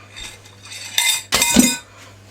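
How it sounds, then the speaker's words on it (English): Bread pudding mixture with muscovado sugar and two beaten eggs being stirred in a bowl, with a few clinks and scrapes of a utensil against the dish and a brief louder burst of mixing. "we mix it all up"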